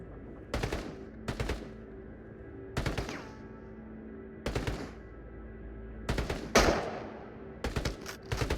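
Single gunshots fired one at a time in the VR shooter Into the Radius, about eight sharp reports in irregular bursts of one to three, loud and close over a steady low ambient hum.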